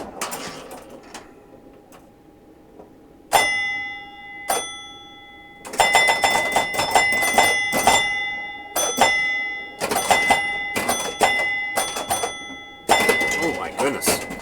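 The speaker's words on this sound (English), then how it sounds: "And you also hear the high-pitched bell at that point." A Williams Honey pinball machine rings its high-pitched 10-point bell in rapid bursts of bright, clanging dings amid mechanical clacks, loud and close, with a voice talking over it.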